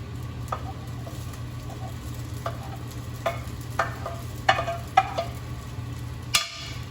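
Vegetables and meat stir-fry with rice in hot oil, a steady low sizzle running throughout, broken by several scattered scraping and tossing clicks of the utensil in the pan, with no talk.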